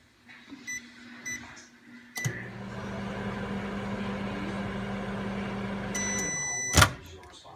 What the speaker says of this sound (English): So now you put it in the microwave for 1 more minute.